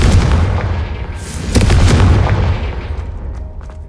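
Confringo fire spell blasting in Hogwarts Legacy, a loud booming burst with a rumbling low roar that swells and then fades over a few seconds, no voices.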